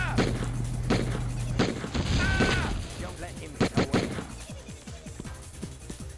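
Gunfire in Die Hard Trilogy on the Saturn, with a few sharp shotgun-like blasts in rapid sequence, the heaviest burst mid-clip, over a busy game soundtrack and clattering action.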